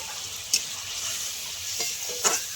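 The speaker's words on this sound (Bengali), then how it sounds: "এবার আমি জল দিয়ে দেবো, বেশি জল দেবো না, অল্প করেই দেবো।" Water poured into a hot pan for a rohu fish curry, giving a steady close sizzling hiss with a couple of sharp utensil taps and no voices.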